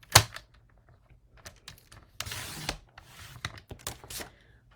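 A paper trimmer cuts white cardstock to 4 inches while a pop-up card is made. Scattered light clicks and taps come before a brief close sliding scrape of the blade, then more small handling sounds.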